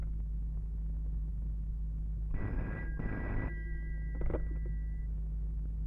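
A telephone rings indoors in a movie scene, giving two short, shrill ring bursts in quick succession and then a brief faint chirp, over a low steady hum.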